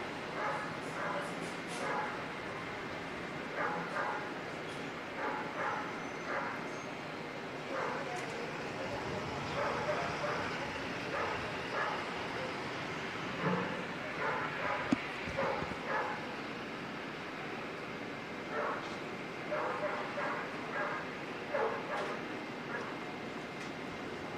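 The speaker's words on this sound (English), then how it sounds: "Doggies in there." Several dogs bark and yip in repeated bursts near Auckland Airport, some sounding close and others farther off, against a low background rumble.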